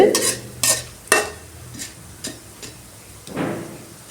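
Horse gram chutney ingredients sautéed in a pan: a utensil scrapes and stirs in several separate strokes, with a soft sizzle underneath and no talking.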